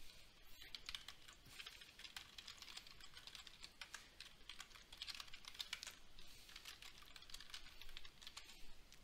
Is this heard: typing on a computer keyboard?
yes